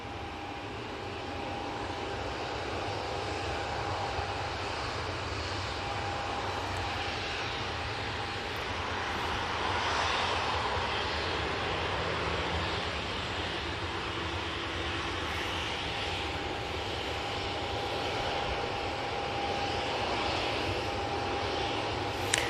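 A fixed-wing airliner taxies and makes a wide turn onto runway 23 left at Manchester Airport, its engines giving a steady, continuous jet roar at moderate distance with no break throughout.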